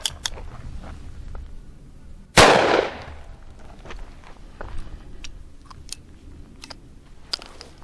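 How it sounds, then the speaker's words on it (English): A single sharp, loud report from a Bond Arms Texas Defender .45 Colt/.410 derringer cracks out close by and fades quickly, with quiet handling noises before and after. "So I'm going to go ahead and shoot this twice,"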